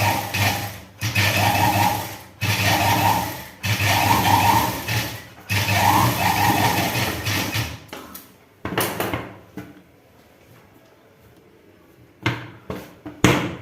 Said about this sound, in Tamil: இந்த வரம்பு ஓரத்துலேயே தான் தையல் ஓட்டியிருக்கோம்